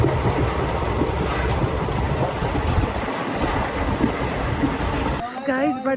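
Train noise at Budgam railway station in Kashmir, a steady rumble and clatter of rolling stock throughout, loud and close, with a voice breaking in near the end.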